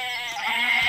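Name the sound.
goats bleating in Barbie Horse Adventures video game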